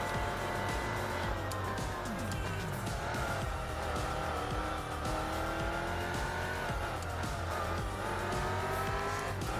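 A race car in Gran Turismo 4 drives continuously with a steady loud engine drone, the pitch rising and falling with gear changes and faint tire noise throughout.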